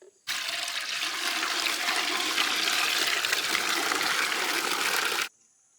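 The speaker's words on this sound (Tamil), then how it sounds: "இப்போ அதுக்கு முன்னாடி வந்து நம்ம தண்ணியை ஊற்றி சூடு பண்ணிக்கலாம்." Water gushes steadily into a pot for heating while a snail gravy is cooked in a village kitchen, a loud continuous pour lasting about five seconds and then stopping abruptly, with no talk over it.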